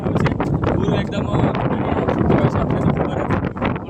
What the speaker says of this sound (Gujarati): પવન આટલો બધો છે